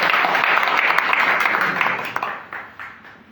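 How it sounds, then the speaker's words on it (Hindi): Loud applause from an audience at a gathering in a hall, dense clapping that fills the first two seconds and then thins into scattered, fading claps by the end. "स्टार जोरदार ताली बजे"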